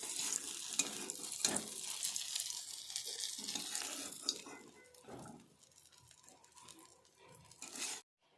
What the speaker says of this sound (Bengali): বেগুনটা লাল লাল করে ভেজে নিয়েছি, এবার উঠিয়ে নেব।